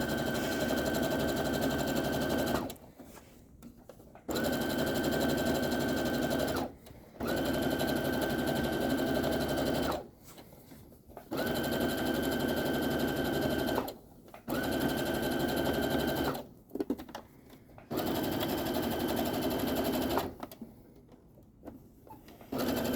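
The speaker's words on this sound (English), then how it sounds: "We're going to sew right off the edge." A sewing machine stitches along a garment hem edge, running in several steady motorized bursts of a few seconds each, separated by short pauses. The whir is close and loud, with no talking.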